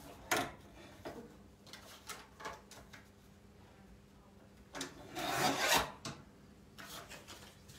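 Scrapbook paper is trimmed by half an inch in scattered short rasping strokes, faint and close, with a longer louder cutting pass near the end and brief quiet gaps between.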